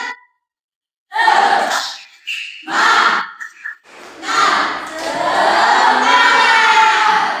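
A primary-school class performs a tepuk semangat chant in the classroom, with several loud shouted bursts and claps followed by sustained group shouting close by.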